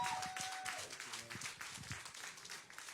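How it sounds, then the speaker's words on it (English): An audience claps for a pastor arriving at a church event, a dense patter of hands that is fairly faint and spread through the room, with voices and some tonal sounds mixed in. "Can you clap your hands for him?"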